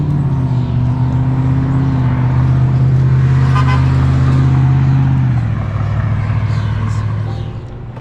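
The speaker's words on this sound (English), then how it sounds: "A set of cars is now coming." Cars pass on a road near a Toronto roadside, with a loud, steady engine and tire roar that swells and then eases as the vehicles go by, close to the listener.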